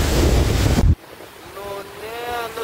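Meter-high Baltic Sea waves at the shore give a loud, roaring wash of surf and wind for about a second, which then cuts off abruptly and leaves a faint voice-like tone.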